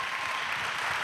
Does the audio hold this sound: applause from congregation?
yes